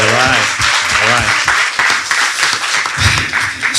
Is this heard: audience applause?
yes